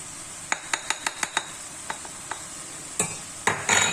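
Onions, peppers, diced turkey and spices get stirred in a pan: a quick series of sharp spoon clacks against the metal, then scattered scrapes and knocks over a faint sizzle, close and alone.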